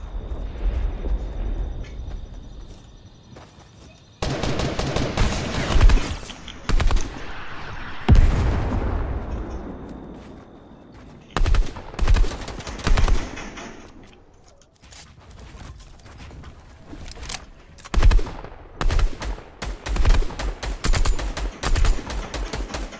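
Repeated bursts of gunfire and explosive blasts in Fortnite Battle Royale, Chapter 2 Season 2 squads, some in rapid volleys, others single booming shots, with quieter gaps between.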